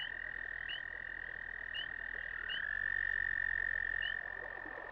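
Chorus of toads croaking at floodplain breeding ponds, a steady sustained trilling drone with several short higher calls standing out at intervals, swelling a little in the middle; no voices.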